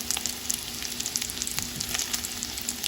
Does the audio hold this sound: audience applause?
no